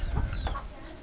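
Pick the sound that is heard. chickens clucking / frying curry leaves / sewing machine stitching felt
chickens clucking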